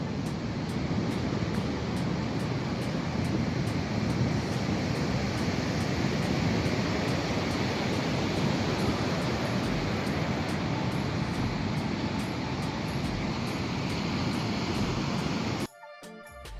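Ocean surf breaking on a beach near the Needles on the Isle of Wight, a steady broadband wash of rolling waves with wind, continuous and fairly loud until it cuts off near the end.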